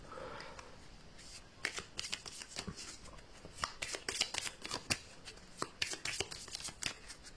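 A deck of cards for the board game Welcome, Collector Edition, is shuffled by hand in a quick run of crisp riffles and flutters. The cards are close and fairly quiet, with no voices.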